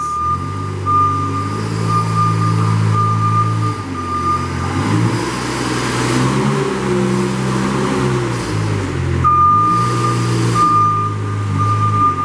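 A 2009 Moffett M45P truck-mounted forklift drives nearby, its engine droning loud and shifting in pitch as it moves, with a steady reversing beep that stops partway and then resumes.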